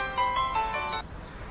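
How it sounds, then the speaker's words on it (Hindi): A mobile phone rings with an incoming call, a short bright electronic tune of repeating tones heard close and clear for about a second before it cuts off. "निहाल का फोन आ रहा है"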